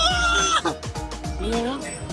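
Chickens cluck and squawk in rapid, overlapping bursts at a haunted house attraction at Universal's Horror Unleashed in Las Vegas, loud and close amid voices.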